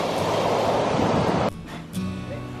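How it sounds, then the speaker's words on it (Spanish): Sea waves wash loudly and steadily onto Tavernes beach on the Valencia coast for about a second and a half. The roar then drops to a softer, windy surf. "Ya estamos en la playa de Tavernes."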